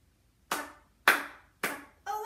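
Three sharp, evenly spaced hand claps for the Mexican Hat Dance, close and crisp in a quiet room, followed by the start of a shouted voice.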